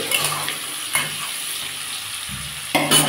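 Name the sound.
onion and chilli added to frying noodles pan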